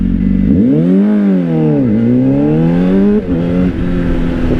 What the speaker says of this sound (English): Nice bit of bass from that exhaust, to be fair.